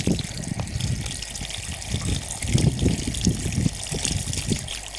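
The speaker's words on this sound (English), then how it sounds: "Just run some water over it." Tap water runs over an Orapup dog tongue brush, a close, continuous splashing trickle that varies as the brush moves under the stream, with no talk.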